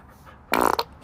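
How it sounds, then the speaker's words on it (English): A woman's fart from a compilation clip: one short, loud, raspy burst after a quiet moment, fading quickly back to near silence. "gotta have your good night fart"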